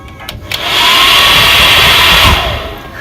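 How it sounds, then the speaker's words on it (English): A hair dryer switches on and blows with a loud, steady whooshing hum for a couple of seconds, then winds down. "Introducing the hair dryer."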